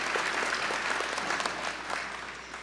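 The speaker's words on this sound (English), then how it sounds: "It's okay to clap." Sustained, dense applause from a large audience at a 2014 School of Medicine commencement ceremony, steady and close for the whole stretch, easing slightly at the end.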